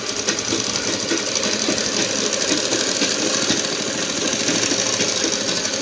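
A sewing machine runs steadily while stitching stretched elastic onto saree fabric, a close, continuous rapid mechanical clatter with no talk over it.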